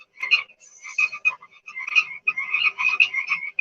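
Frogs croak in rapid, bright, rattling bursts that repeat in close succession, heard clearly and alone with no talking.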